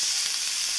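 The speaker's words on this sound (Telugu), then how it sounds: "కొబ్బరిని కూడా ఇలా లైట్గా ఫ్రై చేసుకుందాం" Grated coconut fries lightly in a pan, giving a short, steady, soft sizzle that stays even throughout with no voices.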